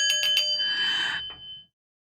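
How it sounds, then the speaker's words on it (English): A bell by a singing bowl is rung three quick times, then once more to leave a longer ringing tone that fades out and drops to silence. The strikes are bright, metallic and close. "Let's ring that bell."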